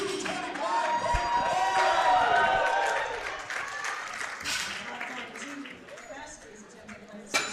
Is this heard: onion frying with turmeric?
no